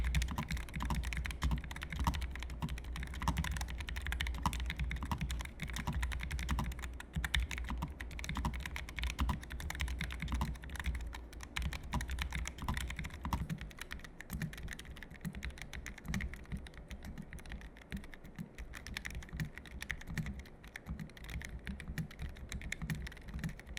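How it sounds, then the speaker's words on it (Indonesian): Continuous typing on mechanical keyboards, the Apollo61 Lite, Ajazz AK832 PRO or Vortex Xera87, with a steady stream of close key clacks at an even, busy rhythm and no talking. "Dan berikut sound test untuk kedua keyboard ini."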